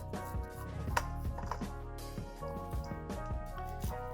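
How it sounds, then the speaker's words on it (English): A sharp knife cuts down a corn cob standing point side up, giving a few close, soft slicing and crunching strokes over a faint background hum, no voices. "Point side up, I just cut a little bit off the top."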